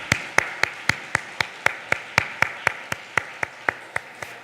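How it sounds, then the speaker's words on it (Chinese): A church congregation at a Taiwanese-language Sunday service claps in unison, sharp even claps at about three per second, with no voices over them. "来，我们拍手"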